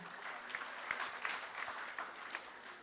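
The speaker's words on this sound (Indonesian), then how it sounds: "Tepuk tangannya." Soft applause from a crowd at an Indonesian small-business gathering patters along at a low level, with a few sharper claps and faint voices mixed in.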